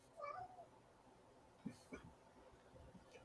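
A house cat gives a short, faint meow near the start, followed by a few soft quieter sounds over a low room hum.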